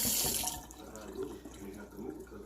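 Tap water running into a sink while food is rinsed for mac and cheese, a brief strong rush at the start fading into softer splashing and trickling, faint and close.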